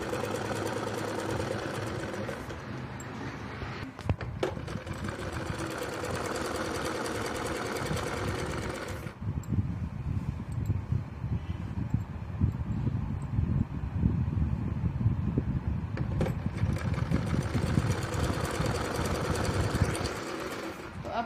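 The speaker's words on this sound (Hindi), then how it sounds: "इस तरीके से इसे अच्छे से करते हुए पूरे को सिलाई लगानी है" A sewing machine stitches Punjabi Patiala salwar fabric with a continuous, fast whirring drone that shifts in pitch partway through, running steadily and close by for the whole stretch.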